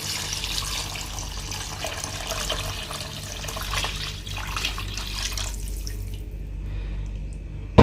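Water pouring into a cooking pot while making fish pulao, a continuous splashing stream that runs for several seconds and then cuts off, leaving quiet room background.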